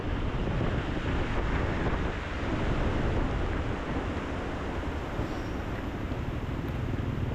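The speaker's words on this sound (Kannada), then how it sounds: "ಈಗ ನೋಡಿ ನೀರು ಹೇಗೆ ಹರಿತಾ ಉಂಟು ಅಂತ" A river in the Bisle Ghat forest in Karnataka, full during the monsoon, roars steadily and loudly through the whole stretch, a continuous broadband rush without pauses or voices.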